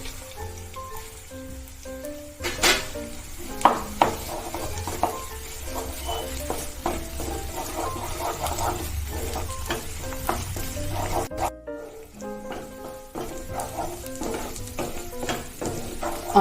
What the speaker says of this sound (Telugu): ఆనియన్స్ ఇలా ఫ్రై అవుతూ ఉండగా ఇప్పుడు దీంట్లో 1 స్పూన్ అల్లం వెల్లుల్లి పేస్ట్ వేసుకుని పచ్చివాసన పోయే వరకు ఫ్రై చేసుకోవాలి